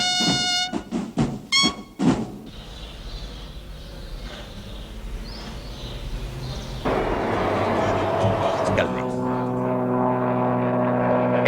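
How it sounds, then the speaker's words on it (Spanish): Government military aircraft flying over a city during the Spanish Civil War. A broad engine drone swells in after a few seconds and grows steadily louder and closer, following earlier rough bursts of sound. "aviones gubernamentales sobrevuelan la ciudad y arrojan bombas sobre los sediciosos"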